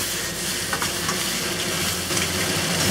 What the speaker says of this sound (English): Just a quick toss. And the mushrooms don't have to cook too long.